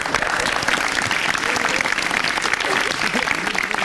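A live audience at a stand-up comedy show breaks into loud, dense applause, sustained evenly from start to finish with some crowd murmur mixed in.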